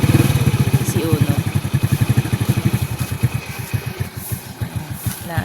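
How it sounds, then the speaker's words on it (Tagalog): A motorcycle engine idles close by with a steady, rapid low-pitched chug that holds throughout, its pulsing loudness easing slightly toward the end, with faint background noise and no talking. "Naayos lang yung motor."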